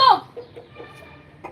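A hen gives a short, loud squawk, then a few soft, spaced clucks in a quiet setting.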